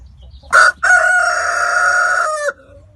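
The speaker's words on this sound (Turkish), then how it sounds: "Ne kadar çok horoz var burada." A rooster crows loudly and close by, one long drawn-out call after a short opening note, against faint background noise.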